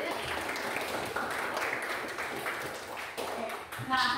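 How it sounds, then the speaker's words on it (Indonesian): A classroom of pupils claps for a student, a moderate burst of scattered applause, with brief talk and a soft ping near the end. "tepuk tangan untuk Putri"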